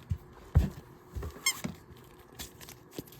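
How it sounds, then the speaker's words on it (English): A small animal gives faint, scattered squeaks with light pattering in between, sparse and quiet against near silence. "But you can sort of hear the squeaks there."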